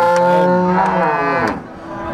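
A PO cow at the Purwantoro cattle market in Wonogiri, Central Java, gives one long, loud, close moo that wavers in pitch and fades out over two seconds.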